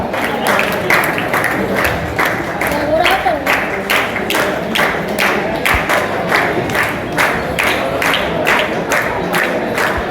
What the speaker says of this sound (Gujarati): તો તેઓને તાળીઓથી વધાવી લેશો